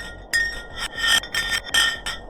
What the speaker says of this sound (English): they decided to drop some ice to the bottom of the hole to see what would happen next